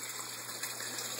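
Water from a pump gushes steadily into a 175-gallon IBC aquaponics tank, a continuous close hiss and splash with no pauses or talking.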